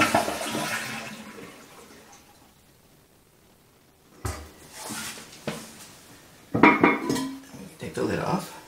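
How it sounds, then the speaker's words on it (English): A toilet flushed to drain its tank during a fill valve replacement, giving a loud rushing gurgle that fades to near silence, followed by clanks and scrapes of the tank lid and parts being handled. "then we'll flush it again"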